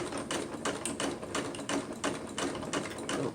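Zigzag stitching on a sewing machine sewing a pillow, a steady, close mechanical whir with rapid regular needle clatter throughout, with no voices.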